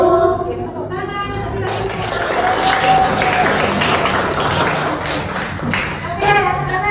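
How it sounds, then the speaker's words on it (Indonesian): A class of children claps and applauds in a classroom, a loud, dense burst of hand claps and taps that swells in the middle, with children's voices and chatter at the start and end. "Tepuk tangan."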